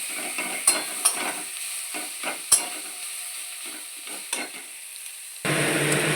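Tomatoes and green chilies sauté in a pan with a steady sizzle, punctuated by several sharp clacks of a spatula stirring against the metal. A louder burst of frying hiss rises near the end.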